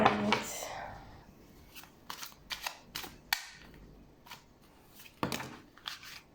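Tarot cards being shuffled and then dropped, a scatter of sharp, close clicks and slaps in irregular bursts against a quiet room, with soft voice-like sounds faintly present.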